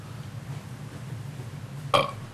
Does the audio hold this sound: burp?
yes